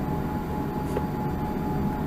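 An ANA Boeing 787 airliner cabin just after landing at New Chitose from Haneda fills with a steady, loud low roar and hum that holds evenly throughout, with no voices.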